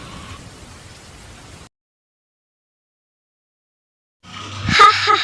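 Rain falling in the video game Sakura School Simulator, a steady hiss that stops abruptly, then returns louder and rougher after a long silence, mixed with other game sounds.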